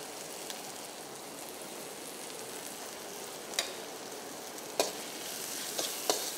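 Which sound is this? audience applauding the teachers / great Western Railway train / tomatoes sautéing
tomatoes sautéing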